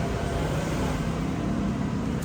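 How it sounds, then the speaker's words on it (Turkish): Steady roadway rumble of cars going by on a street in Midilli (Lesbos), Greece, a broad continuous wash of traffic noise with no talking. "Arabalar da çok geçiyor."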